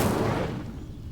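The Incendio fire spell bursts out in Hogwarts Legacy, a single loud whooshing blast of flame that roars up instantly and fades away over about a second.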